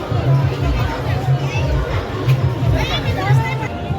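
Crowd hubbub at a busy fair with market stalls outside, a steady babble of many voices and chatter throughout, with nearby people talking over it.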